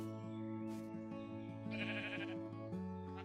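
Several sheep bleat in short, wavering calls close by at a farm pen, one cry following another with no talking.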